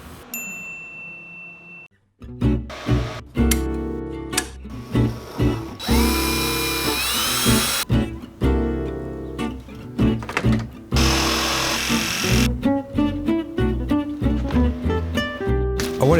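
Handheld power drill spinning to sand the joints of 3D printed stool legs, repeated bursts of whirring motor start and stop in short runs with ratcheting clicks and brief pauses between, close and fairly loud.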